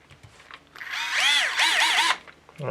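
Power drill whirring up to speed in short rising-and-falling bursts, loud and close, then stopping abruptly, with faint handling noises before and after.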